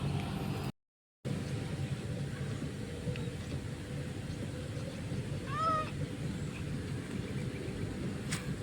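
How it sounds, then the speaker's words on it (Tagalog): A single faint meow from one of many cats rises briefly out of steady low traffic rumble, with no other calls nearby. "Ang dami mga pusa dito"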